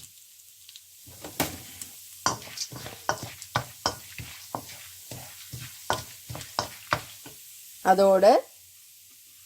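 Chana dal fries in a pan for tamarind rice, with a run of crisp, separate crackles and pops at a steady pace before a short spoken word near the end.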